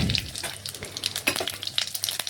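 Whole cumin and dried chillies crackle and spit in hot oil, a dense run of sharp pops and sizzles heard close up without any voices.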